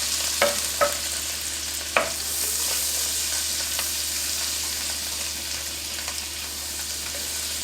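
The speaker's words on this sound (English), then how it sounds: "So all I'm doing now is melting more butter." Butter melts in a frying pan with a steady soft sizzle, broken early by a few sharp scrapes and clicks of a utensil against the pan, all at moderate distance with no talking.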